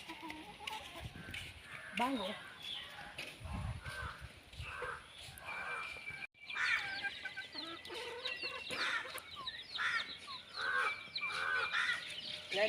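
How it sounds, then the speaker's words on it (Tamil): Young chickens and chicks clucking and peeping in a backyard as they are fed fish heads, a steady busy chorus of calls with some background noise throughout. "இதில் நாங்கள் இப்போ கோழி குஞ்சலுக்கு போட போகிறோம்."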